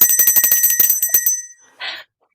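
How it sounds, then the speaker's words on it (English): A bicycle-style bell rings in a fast, bright train of about a dozen strikes that fade out, followed by a short burst of noise after a brief gap, heard close and alone. "going to ring the bell for this because it's that amazing."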